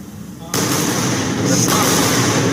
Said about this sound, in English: double sonic booms